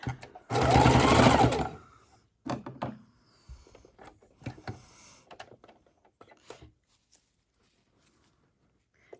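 A sewing machine stitches fabric scraps together in a single loud, fast whirring burst of about a second and a half, followed by soft clicks and handling noises of the fabric and machine.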